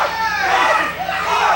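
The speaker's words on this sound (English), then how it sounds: "The crowd in the sportatorium and his teammates are yelling for Everett to fight" Wrestling fans in a sportatorium yelling for a wrestler to fight back, a loud, continuous mass of shouting voices rising and falling together with no clear single speaker.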